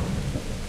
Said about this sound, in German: Das ist ein Wetter, so ein Donner und Regen